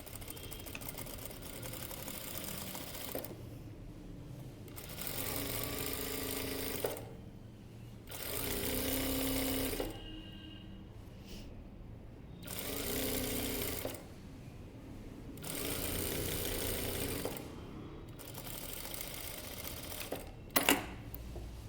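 An electric sewing machine stitches a blouse lining in several steady runs of a few seconds each, separated by short pauses, with small clicks near the end.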